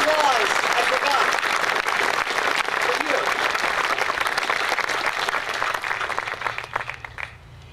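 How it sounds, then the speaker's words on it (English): An audience claps in sustained, dense applause that fills the room and thins out toward the end, with a voice briefly audible over the start. "A big round of applause."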